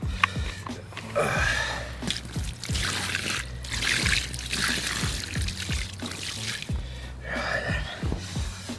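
Water is poured over a 34-pound mirror carp at a fishing lake at Parco del Brenta in Italy: close trickling and splashing in uneven bursts, mixed with breathy handling sounds.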